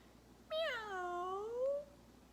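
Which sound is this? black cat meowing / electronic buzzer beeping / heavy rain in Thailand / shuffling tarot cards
black cat meowing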